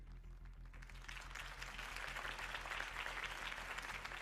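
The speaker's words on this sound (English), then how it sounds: "could have heard that applause" Crowd applause in a Batman video game scene, steady dense clapping heard faintly and continuously, swelling slightly midway.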